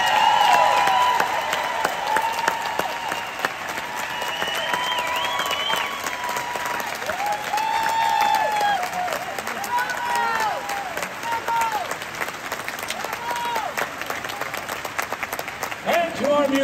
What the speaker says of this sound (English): please give a huge applause to our wonderful orchestra.